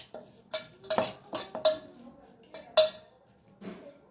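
Hot oil is mixed into masala cake batter with grated ginger, and a spoon scrapes and clinks against the bowl in several quick, uneven strokes, close and moderately loud, with no talking.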